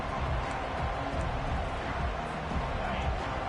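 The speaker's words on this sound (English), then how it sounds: "This crowd bringing the energy and noise early." Dense stadium crowd roar at a football game, a steady broadband wash of many voices with no individual cheers standing out, holding level throughout.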